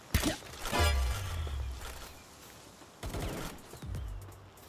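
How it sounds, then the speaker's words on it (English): Bow shots and impacts in the video game Palworld as a player attacks a guard, with a couple of sharp thwacks and whooshes over a low game soundscape, closely spaced bursts around a quieter middle stretch. "I'm going to switch to my trusty bow. I'm going to attack this guard right here."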